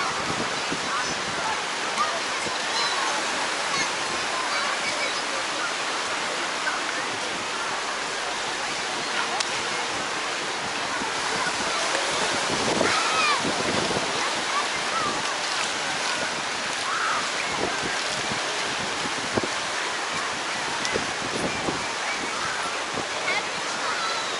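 Wind and surf at Clearwater Beach, Florida on a warm, breezy day: a steady, close roar of wind buffeting and waves washing ashore, continuous and fairly loud with gusty swells throughout.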